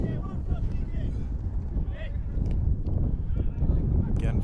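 Gusty late-October wind buffeting the microphone in low rumbling bursts at a men's soccer game against Niagara, with voices talking faintly underneath.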